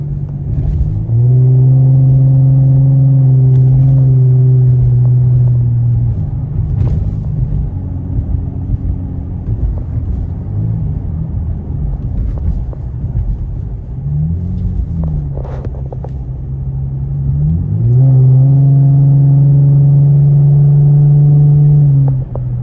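A 2008–2014 Cadillac CTS engine runs loud and close while driving, its steady drone rising in pitch as it revs up, dropping, then revving again toward the end.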